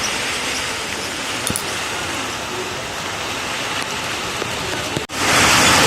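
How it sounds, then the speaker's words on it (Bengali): Steady drizzle of rain falling outdoors on a hot day, a dense, even hiss throughout with a brief sharp drop near the end before it swells back louder. "এই বৃষ্টি পড়ছে ঝিরিঝিরি"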